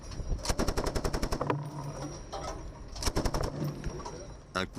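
Heavy machine gun fire from a US Navy ship, with rapid bursts of closely spaced shots, a pause, then a second burst and a short final rattle, all loud and close.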